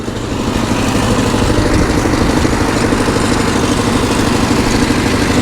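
A Niva SK-5 combine harvester engine runs steadily at a constant idle, producing a loud, continuous low rumble with a dense mechanical clatter that holds unchanged from start to finish.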